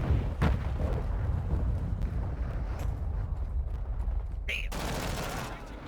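Rapid gunfire in the Call of Duty Modern Warfare 2 video game, dense bursts of shots rattling continuously under game announcer voices, with a player briefly exclaiming near the end.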